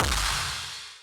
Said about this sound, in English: So the explosion is going to sound like this.